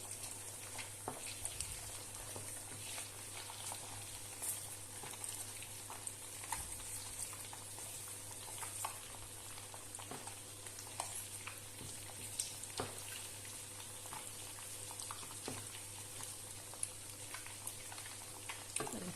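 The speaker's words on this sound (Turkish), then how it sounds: "Kırdım yumurtaları arkadaşlar. İyice pişsin." Quiet, steady sizzling and crackling of eggs frying in a pan, with soft pops scattered throughout and no talking.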